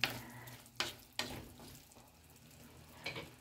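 Picadillo seasoned with paprika being stirred in a pan, a soft simmering sizzle with a few sharp scraping strokes of the spoon, close and fairly quiet.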